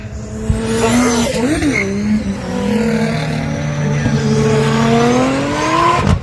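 Drift cars slide through thick tire smoke at Castle Combe, engines roaring loud and close with rising and falling revs and tire squeal running throughout, while a commentator talks over the noise.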